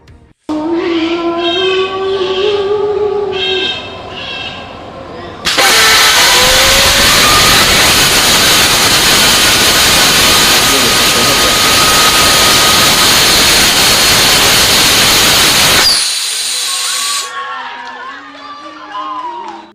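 A Bangladeshi hybrid rocket engine on a test firing, a sudden loud continuous roar that holds steady for about ten seconds and then cuts off abruptly, with talk and music before and after it.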